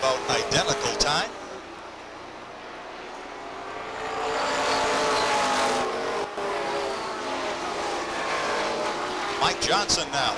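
Stock race cars roar around Beech Ridge Motor Speedway during 1992 weekly racing, the engine drone swelling as cars pass close and fading again, with an announcer talking over the start and end.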